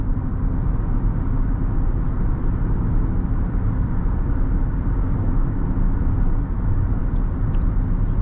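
A 2018 Land Rover Range Rover accelerating smoothly up to highway speed, a steady low engine and road roar heard from inside the cabin, constant and unbroken with no talking.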